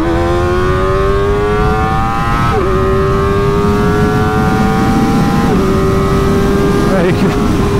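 A Graves Motorsports Kawasaki ZX-4RR screams loud and close through repeated rising pulls, each gear change briefly dropping the pitch before the high engine note climbs again.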